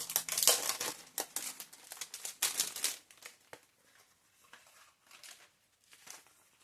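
Crinkly plastic packaging holding small pink envelopes is handled up close, loud crackling bursts at first that thin out into scattered faint rustles.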